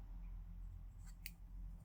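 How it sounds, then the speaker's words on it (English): A pair of scissors snips through yarn while a simple friendship bracelet is finished off, giving one or two brief, faint crisp cuts over a low steady room hum. "So I'm going to cut the yarn with a tail."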